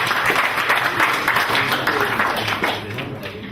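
Audience clapping for a presenter at a public dialogue on conservation, a dense, even round of applause that holds steady and tapers slightly at the end, with a faint murmur of voices underneath.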